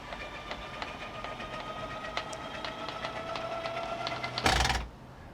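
Electric engine hatch lift raising on a 1995 Fountain 24CS boat with a Mercruiser engine: a steady whirring motor hum with light ticks, ending in a loud, brief burst before stopping.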